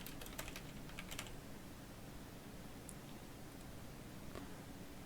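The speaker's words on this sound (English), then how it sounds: "I will type some comments" Light typing on a computer keyboard, quick clusters of soft key clicks near the start and then a few scattered taps, faint and close in a quiet room.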